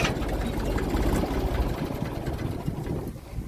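A tractor engine runs nearby in a farm field with a steady, rumbling chug that holds through the whole stretch and thins slightly near the end as it is stopped.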